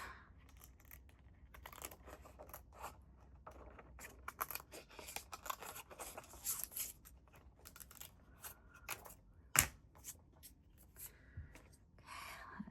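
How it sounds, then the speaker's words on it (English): Scissors snip through paper at a craft table, a string of quick irregular cuts with small rustles between them and one sharp louder snip near the end, close and clear with no talking. "Let me cut out what I need. Oh, these scissors."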